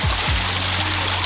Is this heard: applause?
no